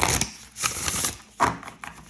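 Tarot cards being shuffled by hand, several quick riffling bursts separated by brief pauses, close and crisp with no talking.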